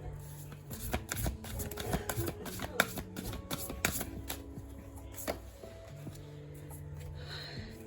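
Tarot cards being shuffled by hand in a string of quick riffling and tapping bursts, close and soft, with someone talking quietly in places.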